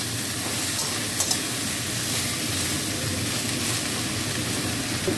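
Thinly sliced ridge gourd and pointed gourd fry in a pan as they are stirred, giving a steady, dense sizzle that stays even and close throughout with no talking.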